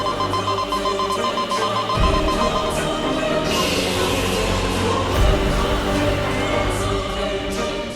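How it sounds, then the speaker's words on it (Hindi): A security alarm rings steadily and loudly for the full stretch in a scene from a children's fantasy TV drama, with a dense electronic ringing tone and a low rumble beneath it. "ये तो वीर लोग का सिक्योरिटी अलार्म है।"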